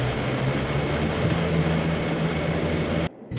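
Steady propeller-plane engine drone from a turboprop aircraft in a flight simulator game, loud and continuous with a low tonal hum, cutting off abruptly near the end.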